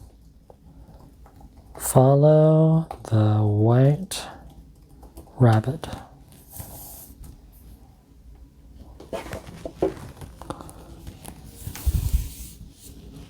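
Keys clatter on a Galaxy Book2 Pro 360 laptop keyboard in a quick run of light, close taps, following a stretch where a person speaks.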